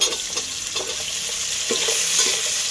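Chopped tomatoes go into a hot frying pan with potato for egg pulao, raising a loud, continuous sizzle broken by the scrape and clatter of stirring, close up and with no voices.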